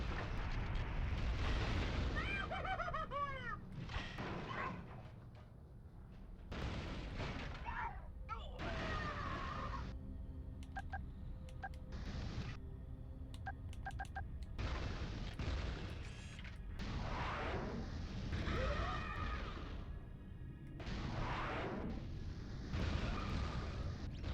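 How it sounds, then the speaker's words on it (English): Rocket launcher explosions in the game Metal Arms, repeated loud booms and blasts mixed with sharp weapon fire and rumbling noise, with a voice talking over them. "there is someone else, apparently, who knows where I am, who has a rocket launcher!"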